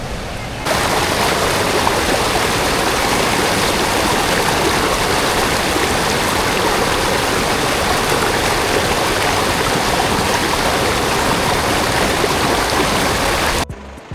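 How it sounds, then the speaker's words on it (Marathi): A fast, dangerous-looking river near Manali rushes in a loud, steady roar of flowing water that fills the whole stretch and cuts off abruptly at the end. "नदीला एकदम डेंजर असा फ्लो आहे"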